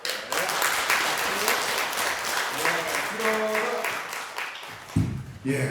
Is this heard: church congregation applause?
yes